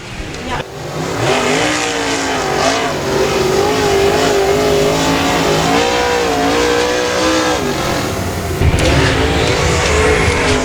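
A race car engine at Boothill Speedway revs and roars continuously at high volume, the pitch rising and dipping with the throttle, with an announcer's voice faintly over the din.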